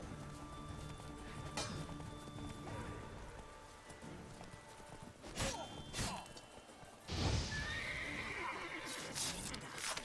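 A horse whinnies amid background noise in the video game The Witcher 3: Wild Hunt, with clip-clop hooves and a sudden crashing whoosh partway through.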